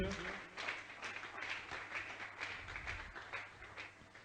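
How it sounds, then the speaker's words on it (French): A church congregation applauds in praise during a French-language service, a steady wash of many hands clapping at moderate volume with faint voices mixed in. "Acclame pour la parole de Dieu."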